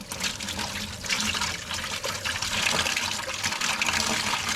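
Coolant drains steadily from a Jeep YJ with an LS engine swap during a water pump replacement, a continuous close trickling and splashing of liquid into a catch container, with no talk.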